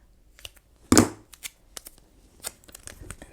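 Scissors snipping a printed planner sticker, a few sharp close cuts with one louder snip early on, followed by faint paper rustling and small clicks.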